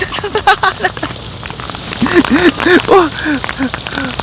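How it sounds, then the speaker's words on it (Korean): Rain pours down steadily outdoors during a rainy day of squid and cuttlefish fishing, pattering on surfaces beneath a man's loud, excited voice that speaks through much of the moment. "빗소리 듣기 좋죠"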